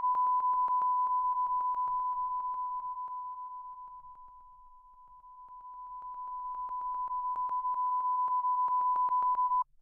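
Steady pure test tone, pulsing slightly, that fades gradually to a quieter level and then rises back to full as the microphone angle to the source changes. No voices.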